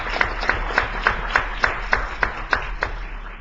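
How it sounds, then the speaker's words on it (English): Audience at a state education board meeting applauds school principals: a few distinct, evenly spaced claps ring out in a sparse, rhythmic pattern against a quiet room. "let's give these principals a round of applause."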